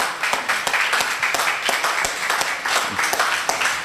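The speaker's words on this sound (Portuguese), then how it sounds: "Me quero pedir aplauso para Digicel que adoptar Carnaval de Corsó." A carnival-event crowd applauds a sponsor at a participant presentation, dense steady clapping filling the whole stretch, loud and close, with faint voices mixed in.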